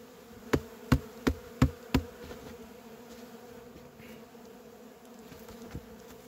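Honeybees hum steadily at the entrance of a beehive, a close, continuous buzz with several sharp knocks early on and a fainter one near the end.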